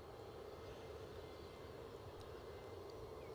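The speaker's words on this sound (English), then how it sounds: "an Airbus 320 Neo, off down to the big smoke" Airbus A320neo airliner, about 18 months old, heard at Edinburgh as a steady broadband engine roar, distant and continuous, with no voices.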